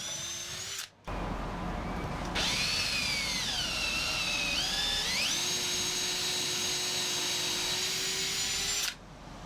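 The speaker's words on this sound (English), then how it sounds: "To help with drainage, I'm drilling some holes into the base." Power drill boring drainage holes into the wooden base of a planter box, a close steady whine that pitches down as the bit bites into the wood, starting and stopping between holes.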